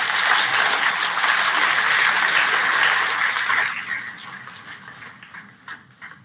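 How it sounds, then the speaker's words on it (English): A conference hall audience at an international computing sciences event applauds a speaker with loud, dense clapping that holds steady, then tapers off into a few scattered claps. "I request all of us to please give him a huge round of applause."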